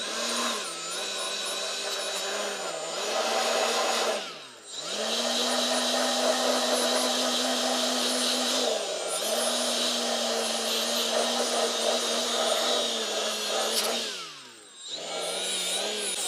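A Milwaukee M12 FUEL battery-powered right angle die grinder whines at high speed, loud and close, with its pitch dipping briefly under load or between runs several times before climbing back to a steady scream.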